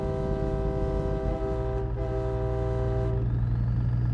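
A loud, steady train horn blares from a big rig setting in American Truck Simulator, held as a long sustained chord with layered tones over a low engine rumble, fading at the end.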